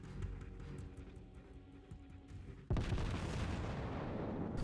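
Tirpitz battleship in World of Warships firing a salvo of shells at the battleship Nagato: a low rumble of cannon fire gives way to a sudden loud boom, followed by a sustained roaring wash of noise.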